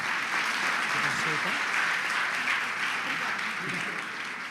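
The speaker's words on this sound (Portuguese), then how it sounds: "Você pode aplaudir Jesus?" A church congregation at a celebration service applauds in a steady, dense wash of clapping from many hands, filling the room throughout with voices mixed in.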